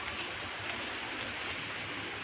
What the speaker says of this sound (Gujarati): વરસાદ પણ આવી ગયો.